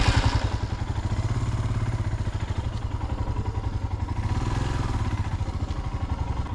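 A motorcycle engine throbs in a steady low pulsing rhythm on a short ride, captured close from a helmet-mounted GoPro, with rushing wind noise layered on top and no talk.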